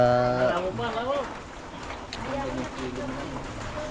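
A steady wash of drizzling rain from a storm hangs in the background under someone talking.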